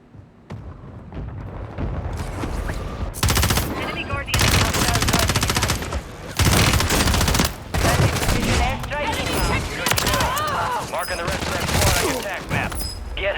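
Heavy gunfire in Call of Duty Warzone, sustained machine-gun bursts and loud shots in repeated waves, some booming blasts among them, close and intense with a voice occasionally speaking underneath.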